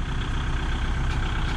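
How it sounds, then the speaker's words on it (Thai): A farm tractor's engine rumbles steadily as it slowly reverses down off a dump truck while unloading rock, a low, continuous idling drone that stays close and loud throughout, with no talking. "รถไถก็ค่อยๆถอยลงค่อยๆถอยลงยกฐานขึ้นก่อนนะ"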